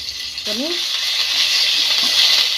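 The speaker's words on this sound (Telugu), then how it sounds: "ఎండుమిర్చి వేసేసుకొని ఇవి కూడా కొంచెం బాగా ఫ్రై చేసుకున్నాం" Oil sizzles loudly and steadily in a pan as dried red chillies fry, with a brief metallic clink of a utensil near the start.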